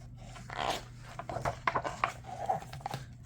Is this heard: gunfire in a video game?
no